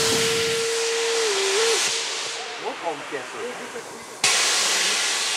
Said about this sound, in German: Die Dampflok muss immer wieder bewegt werden.